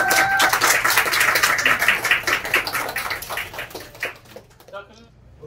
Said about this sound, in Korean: 축하, 와, 응원의 박수 부탁드립니다